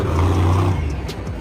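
A monster truck, an off-road vehicle with oversized tires and a powerful engine, revs with a loud, steady low rumble. The rumble holds for the whole short stretch and eases slightly toward the end.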